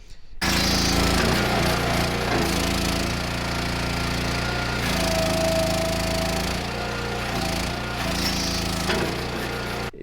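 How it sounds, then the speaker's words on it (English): An Axis wood splitter runs with a loud, continuous engine drone while its hydraulic log lift operates, with rough, shifting mechanical rumble and brief surges, heard up close without speech. "like this hydraulic lift over here, I'll show you a clip."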